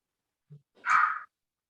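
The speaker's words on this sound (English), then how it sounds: "Is that my dog that is barking?" A single short dog bark sounds once in the background, fairly faint, preceded by a small thud.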